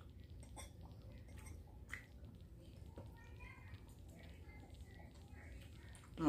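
Soft, wet chewing of pasta sauce during a taste test between jarred brands, faint and close, with small moist clicks over a low background hum.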